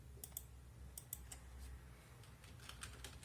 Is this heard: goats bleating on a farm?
no